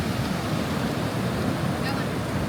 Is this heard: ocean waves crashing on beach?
yes